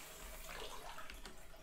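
Water runs steadily from a tap in a horror cooking video game where noodles are being prepared, a quiet, continuous splashing stream with no talk over it.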